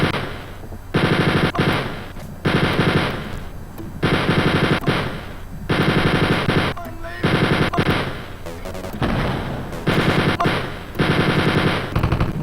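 Rapid bursts of machine gun fire from the Wolfenstein 3D shooter game, loud and repeated in long volleys separated by brief gaps, with short pauses and game sound between bursts.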